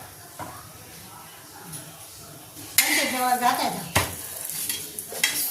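Puran poli frying in oil on a pan, soft sizzling with scraping and stirring clinks from a spatula against the pan, close and moderately loud.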